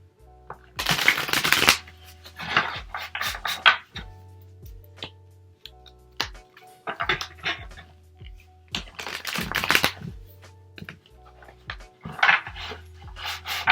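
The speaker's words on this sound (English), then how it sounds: "I'm just going to start shuffling the cards" A Tattoo Tarot card deck being shuffled by hand in repeated bursts of riffling and rubbing, close and fairly quiet, with short pauses between shuffles and no talking.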